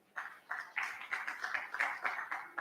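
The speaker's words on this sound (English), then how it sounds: "a round of applause for him" A quiet round of applause at a session of the Nigerian Institute of Town Planners, with evenly spaced bursts of clapping repeating in a steady rhythm, faint and slightly distant.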